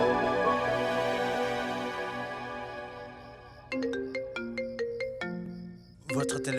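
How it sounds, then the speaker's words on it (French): A phone ringtone plays near and clear, first as a sustained melodic chime, then as a rhythmic repeating pattern of bright tones, breaking off and starting again at the end. "Votre téléphone sonne."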